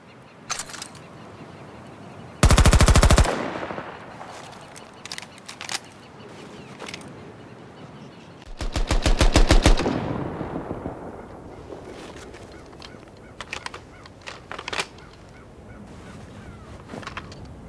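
A rare MPX submachine gun reload animation in Battlefield 2042 plays out as two loud, dense buzzing bursts separated by mechanical clicks and clatter, with scattered sharp ticks afterward and no voices.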